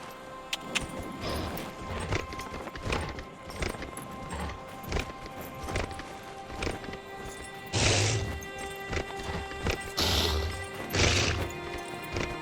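Steady rhythmic clip-clop of a galloping horse in Dragon Age: Inquisition over a busy game soundscape, with a few louder bursts and crashes; continuous and fairly loud, no speech.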